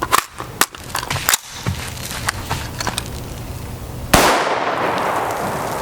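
A .223 Remington rifle with a 16-inch barrel, firing 55gr HP Wolf Polyformance rounds, lets out a quick run of sharp cracks, then one louder, close blast with a ringing tail.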